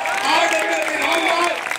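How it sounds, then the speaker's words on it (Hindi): An audience applauds at an award ceremony honouring an educator, a steady wash of clapping lasting just under two seconds beneath a tonal, voice-like sound. "एक बार खड़े होकर जोरदार तालियों के साथ"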